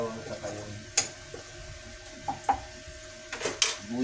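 Garlic sautés in hot cooking oil for a tofu and kangkong stir-fry, a steady close sizzle broken by scraping stirs and a few sharp clinks of utensil on pan, with a voice speaking faintly at times.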